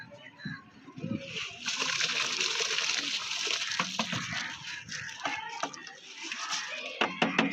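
Soaked rice being added to a pot of boiling water for chicken biryani gives a sustained splashing, sloshing rush with bubbling and clinks over several seconds. Faint talk runs beneath it.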